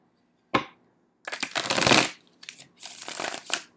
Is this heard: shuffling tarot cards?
yes